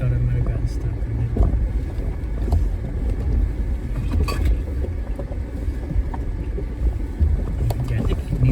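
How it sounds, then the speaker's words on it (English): A car in four-wheel drive creeps down a slope toward a river crossing in Kimble County Park, Junction, Texas; a steady low engine rumble runs close throughout, mixed with wind buffeting the microphone. "put it in 4-wheel drive again because I'm gonna come down this spot where the river is"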